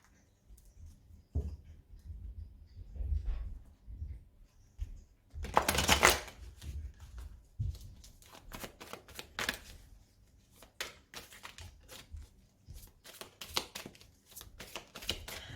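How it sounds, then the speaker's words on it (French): Tarot cards are shuffled close by in irregular bursts of riffling and soft slapping, with one loud flurry partway through and a quicker run of crisp card snaps toward the end. "On va bien mélanger le tarot."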